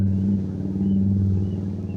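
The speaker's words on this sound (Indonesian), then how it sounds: "ada motor lewat." A motorcycle engine drones steadily nearby, a low rumbling hum holding for the full two seconds with no voices over it, heard where a DJI Mini 2 SE drone is being flown.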